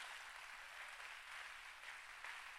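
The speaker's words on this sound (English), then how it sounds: "Can we give all these people a round of applause?" An audience applauds at a business opportunity sharing event: a steady, soft wash of clapping that holds evenly throughout with no voices over it.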